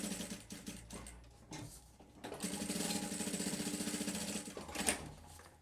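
A sewing machine stitches fabric for a custom Bible cover, quiet and close, with a short run, pauses, then a longer steady burst of rapid mechanical needle clatter.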